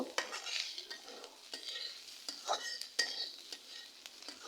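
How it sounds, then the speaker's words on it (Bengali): A utensil stirs vegetable bhaji frying in a pan, giving soft repeated scrapes and clinks over a faint, steady sizzle, quiet and close with no talk. "আর কিছুক্ষণ লাড়াচাড়া দিয়ে নামিয়ে নিব"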